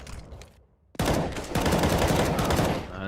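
Counter-Strike gunfire on the Cache map of a professional ESL One match: a burst of rapid shots erupts after a brief lull and keeps going as loud, dense automatic spray.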